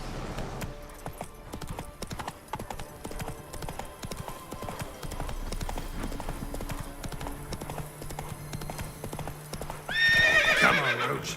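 Roach, Geralt's horse in The Witcher 3 video game, gallops with continuous rhythmic hoofbeats against a busy game soundscape, ending in a loud, close neigh.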